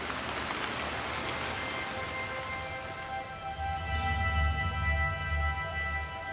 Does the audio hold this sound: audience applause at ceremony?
no